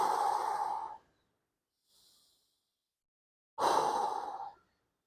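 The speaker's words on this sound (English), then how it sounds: "Deep breathing starts again." Deep, slow breaths during an early-stage leg rehab exercise: a long exhale, a faint pause with a quiet breath, then another strong breath, each close and fairly loud with no talk.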